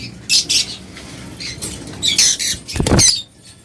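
Caged pet birds for sale, including a breeding pair, give a series of close, sharp squawks and chirps in uneven bursts, with a louder harsh call near the end over a faint background hum.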